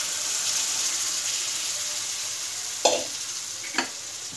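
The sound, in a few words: stirring cooked chicken into spicy masala in a pan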